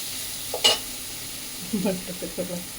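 Melted butter being stirred into a peanut candy mixture in a pan, with a soft sizzle and a few brief scraping stirs near the mic, quiet between strokes.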